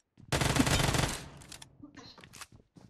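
Automatic gunfire from PUBG Mobile erupts in a dense, loud rattling burst, then breaks into a few scattered, sharper shots and clicks as the burst dies away.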